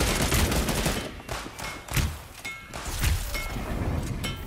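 Rapid automatic gunfire in a first-person shooter game comes in close, loud, repeated bursts with short gaps between volleys, with no talking over it.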